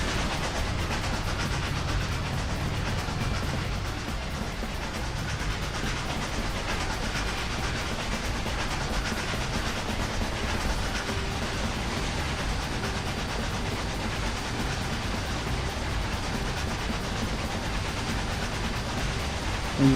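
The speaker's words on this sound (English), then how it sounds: "Railroad sound and running through the factory" A train in the Trainz railway simulator running past a factory, heard as a steady, continuous rumble of wheels on track with faint clickety-clack for twenty seconds and no talk over it.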